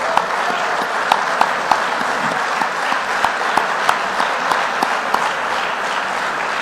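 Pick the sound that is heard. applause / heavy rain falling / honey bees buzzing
applause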